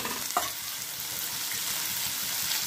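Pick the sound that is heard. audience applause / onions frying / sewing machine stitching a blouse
onions frying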